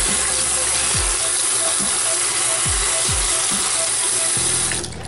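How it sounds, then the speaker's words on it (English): Tap water running steadily into a sink while a 3D printed case is rinsed, a close continuous splash with occasional low thumps as the piece is handled, then the flow cuts off at the end. "I like to just wash it in the sink,"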